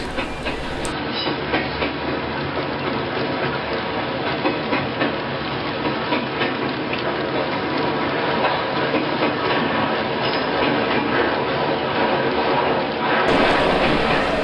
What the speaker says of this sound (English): The train picks up speed as it goes by WM Tower